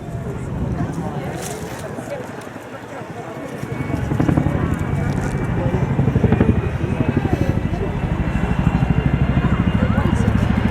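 A Chinook twin-rotor helicopter makes a flying display pass, its steady heavy rotor throb growing louder and more pulsing, under continuous commentary from a man.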